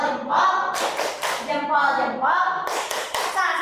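A group of teachers performs the 'tepuk salut' clapping chant, rhythmic bursts of clapping mixed with chanting voices, fairly loud and near throughout.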